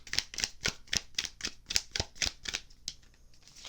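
Tarot cards are shuffled by hand in quick bursts of crisp riffling clicks, about ten closely spaced snaps in a steady rhythm, nearby and fairly quiet, with no talking.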